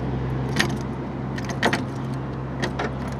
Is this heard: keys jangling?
yes